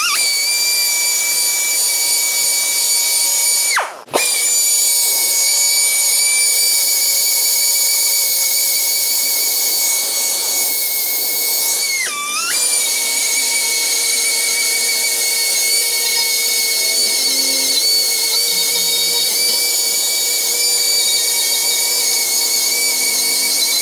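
A zip cut-off wheel grinds through an engine cover: a loud, steady high-pitched whine runs continuously, with two brief dips where the wheel lifts off the metal, then resumes.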